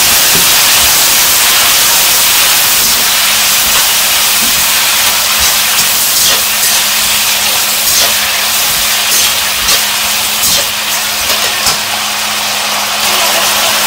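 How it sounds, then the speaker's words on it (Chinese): Potato slices and cured pork stir-fried in a wok give a loud, steady sizzling hiss that fills the whole stretch, with faint scraping and clinks scattered through it and a low hum beneath. "好，我们现在把土豆片放进去翻炒。"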